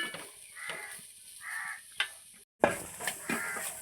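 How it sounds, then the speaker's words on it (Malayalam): Grated coconut roasts in coconut oil in a pan, a soft sizzle broken by scraping stirs and a few sharp clinks against the pan, with a crow cawing faintly in the background. "ചെറിയ തേങ്ങ കറക്കിയിട്ടൊന്ന് വറുക്കാൻ വെച്ച്"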